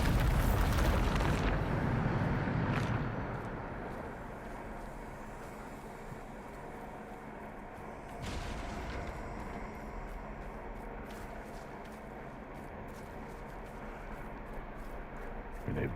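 A Bombarda blasting spell cast in Hogwarts Legacy: a loud explosive boom at the outset that fades over a few seconds into a long, low lingering rumble.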